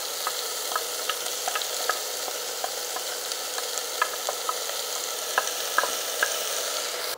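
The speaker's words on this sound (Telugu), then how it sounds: "ఇది కొంచెం ఇట్లా పచ్చివాసన పోయే వరకు జస్ట్ ఒకసారి ఫ్రై చేద్దాము" Chopped spinach fries in a pan with a constant bright sizzle, punctuated by frequent light taps and scrapes as it is stirred.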